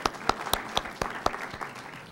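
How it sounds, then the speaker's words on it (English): Audience at a community forum clapping, a sparse set of distinct, fairly faint claps in an uneven rhythm, about ten in two seconds, with room echo and no talk. "That's a good clap."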